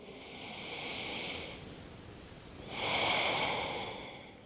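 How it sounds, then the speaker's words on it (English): Slow, deep yoga breathing: one long, airy inhale followed after a pause by a fuller exhale, close and soft, with no talking. "A deep breath in and a deep breath out."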